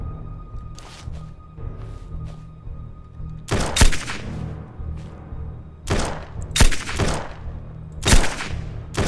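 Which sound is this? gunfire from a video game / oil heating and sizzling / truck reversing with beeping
gunfire from a video game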